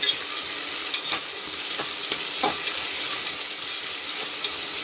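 Vegetables are sautéed in a pan for a green field bean sambar, making a loud continuous hissing sizzle with a few soft ladle scrapes.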